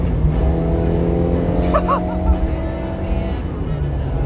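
A 1976 Fiat 128 3P four-cylinder engine running and revving steadily with a raspy carburetor intake roar through a pan filter, loud and close throughout.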